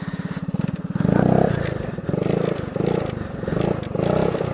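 A $110 small-displacement dirt bike engine, carb freshly cleaned, chugging close by in a rough idle and blipped in four or five short revving surges.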